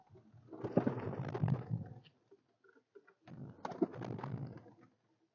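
Two bursts of low pigeon cooing, close by, separated by a short pause.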